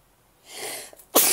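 A single close sneeze: a breathy in-drawn build-up followed by a sharp, explosive burst at the end.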